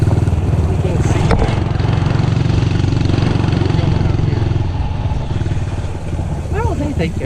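A pit bike motorcycle engine drones loudly and steadily nearby as it is ridden, with small shifts in pitch and a brief rise near the end; a voice speaks over it.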